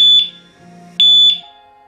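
Motorcycle anti-theft alarm triggered by moving a parked bike, giving loud, piercing electronic beeps in short bursts, a pair near the start and another pair about a second later, with a low hum between them.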